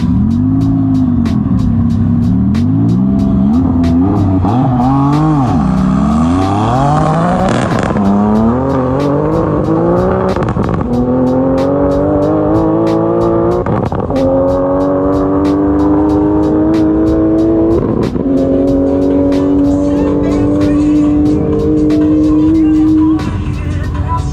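A BBI Porsche GT2 and a Sheepey Racing twin-turbo Lamborghini accelerate hard in a roll race at a Shift Sector event, with loud, sustained engine roars rising through the gears and frequent shift breaks.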